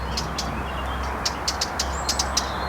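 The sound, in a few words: blackcap bird singing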